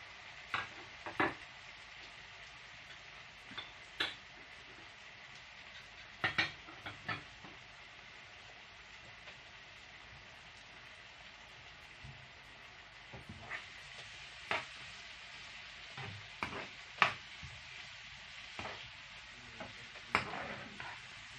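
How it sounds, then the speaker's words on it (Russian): Carrots and tomatoes sautéing in a pan for borscht with silver carp: a soft steady sizzle under scattered clinks and scrapes of a spoon stirring, close and unhurried, no voices. "Все пережариваем."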